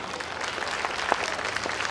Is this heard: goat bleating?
no